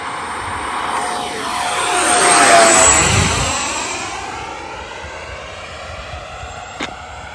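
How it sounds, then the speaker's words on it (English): An FMS 80mm Rafale RC model jet flies past with a loud airframe howl. The whine rises as it approaches, peaks overhead, then falls in pitch and fades as it pulls away. "It's got a really nice airframe howl here."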